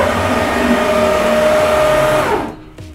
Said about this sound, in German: die Maschine fährt im Eilgang bis kurz vor die Referenzpunkte und sucht sie dann erst